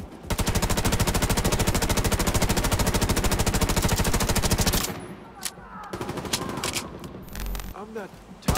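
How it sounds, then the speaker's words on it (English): Re-recorded weapon sounds in The Division 2 open with a sustained burst of rapid automatic gunfire, loud and dense. It then breaks into scattered single shots and clanking game effects. "the sound design is re-recorded every weapon sound, overall making the sound way better"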